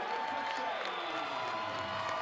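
Home crowd cheers steadily after a touchdown at an ACU football game against Mercer, a broad, continuous roar of voices heard from a distance with a faint tone running through it.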